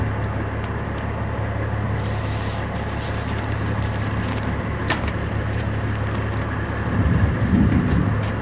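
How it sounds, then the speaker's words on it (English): Rumbling thunder from a brewing storm, a steady low roar with rain-like hiss beneath, a brief crackle midway and a deeper rumble swelling near the end, heard over an idling engine's drone. "sounds like there's a storm brewing"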